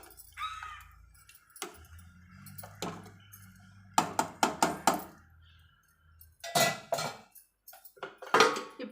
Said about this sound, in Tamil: இப்போ நம்ம குக்கரை மூடி போட்டு ஒரு கொதி விட்டு ஆஃப் பண்ணலாம்